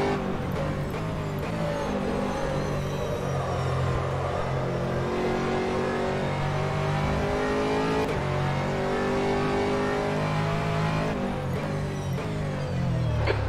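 Aston Martin GT3 race car engine at Silverstone in the rFactor racing game, a steady, loud droning roar with rising and falling revs and gear shifts that carries on throughout.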